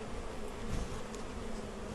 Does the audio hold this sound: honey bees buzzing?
yes